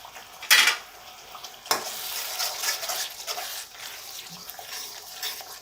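Slit green chillies drop into a masala gravy frying for masala baingan. Two sharp utensil clatters come first, then a close, steady sizzle with light stirring.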